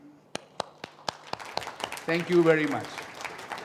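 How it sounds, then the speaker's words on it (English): Scattered claps open into audience applause at a Yamaha motorsports press conference, a handful of sharp hand claps before someone speaks briefly over the thinning applause. "So please cheering up the Blue Yamaha team. Also, give them the big hand."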